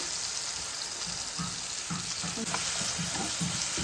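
Curry leaves hitting hot oil in a Telugu home kitchen while a broad bean and egg curry with cashews is cooked, giving a steady loud sizzle with soft rhythmic stirring knocks throughout.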